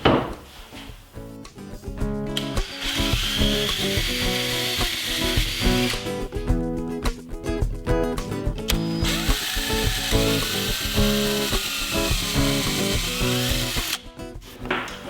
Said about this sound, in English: Now I'll pre-drill and countersink a hole at each one of those marks.